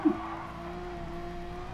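A Porsche race car in a sim racing video game holds a steady, even engine drone with a sustained tonal whine during an overtake, with no voices and no clear change in pitch.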